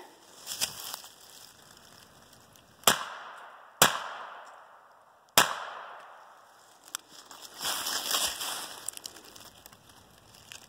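Three sharp, loud cracks from a .22lr pistol firing Mini Mag rounds, spaced about a second apart, followed by shuffling and handling noise, with no speech.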